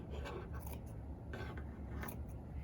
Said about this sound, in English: you're going to start by just cutting right across under the arms.